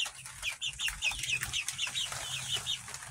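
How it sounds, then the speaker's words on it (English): Backyard hens settle in for bed, clucking close by in a quick series of short, repeated calls over a low background hum. "then we got the rest of the hens up here ready for bed."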